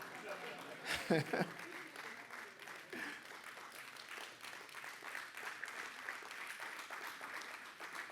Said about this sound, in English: Let's keep clapping.